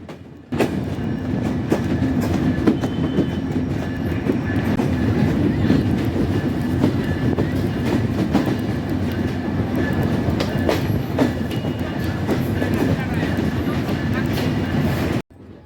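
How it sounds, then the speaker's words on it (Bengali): Ruposhi Bangla Express train pulling into Jessore junction, a steady loud rumble of rolling wagons with rhythmic clickety-clack of wheels over rail joints and faint squeals, heard close from on board for the whole stretch. "নির্ধারিত সময়ের চেয়ে তেরো মিনিট বিলম্বে আমাদের ট্রেন প্রবেশ করছে যশোর জংশনে"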